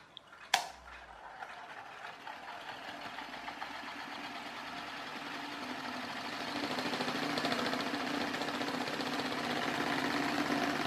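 On a junk-built yogurt pot racer, a small electric motor drives an undersized pulley: one sharp click, then a faint continuous whirring hum with rattly vibration that rises slightly, close and quiet, no talking.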